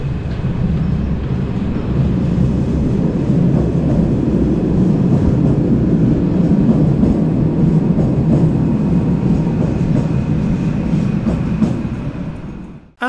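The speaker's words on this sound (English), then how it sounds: "take look and listen to the sound of the train again when it's leaving the station there." A Cologne Stadtbahn light-rail train pulls out of underground Appellhofplatz station, a loud sustained low rumble and rolling roar with faint rail clatter that holds steady, then cuts off abruptly at the end.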